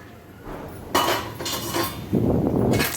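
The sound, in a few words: lid placed back on a pot of cooking rice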